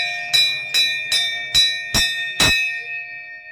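Metal temple bells offered by devotees at a Mother Bhagwati shrine during Navratri, struck six times in steady succession, each bright ringing strike layering over the last before the tones fade into a sustained hum; no talking.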